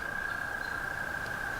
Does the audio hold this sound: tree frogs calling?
yes